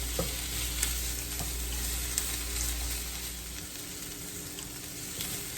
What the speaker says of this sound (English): we're going to add our turkey bacon that's been sliced. And we're going to brown that for the next few minutes